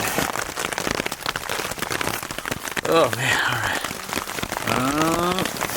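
Heavy storm rain pelts a Hilleberg Niak tent in a dense, continuous patter from close by, while someone speaks briefly and sighs over the noise.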